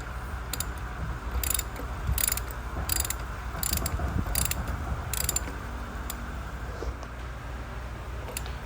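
A large ratchet clicks in short bursts during an oil and filter change on a 2018 Volkswagen Tiguan, sharp metallic ticking in close repeated strokes over a steady low background hum.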